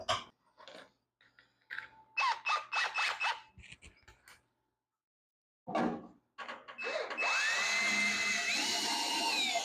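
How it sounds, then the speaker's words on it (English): A power drill with a step bit whines in short bursts, then runs steadily as the bit bites through a metal golf cart body with a grinding, rising pitch, close and loud. "now we're going to drill the hole in the cart"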